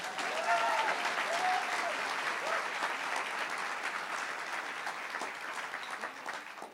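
A library audience claps steadily through a LeVar Burton live event at the Wilmington Public Library in Delaware, a dense, even patter of many hands that fades slightly toward the end, with no speech over it.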